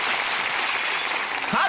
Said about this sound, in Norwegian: Applaus for naturlovene, folkens.